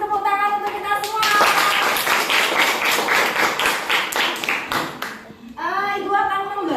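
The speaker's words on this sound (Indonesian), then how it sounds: "Kasih tepuk tangan untuk kita semua." Students clapping together in an Indonesian classroom after presentations, a dense burst of hand claps lasting several seconds, close and loud, with children's voices chattering before and after.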